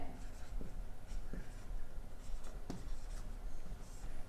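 A pen scratches on paper while a formal letter is written, soft close strokes with a few sharper taps, steady and quiet throughout.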